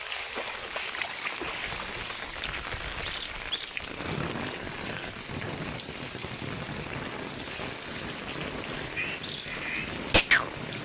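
Steady rain hisses across the whole stretch, a dense patter with a couple of sharp clacks near the end.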